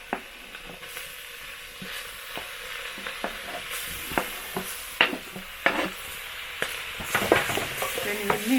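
Tomatoes are stirred into a cooking pot over a low sizzle, with repeated scraping and clinking of a utensil against the pot, the strokes growing busier toward the end.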